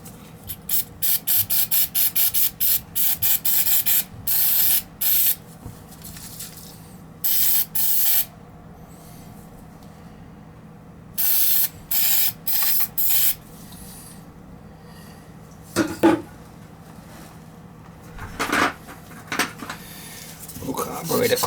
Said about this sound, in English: A little carburetor cleaner will do it.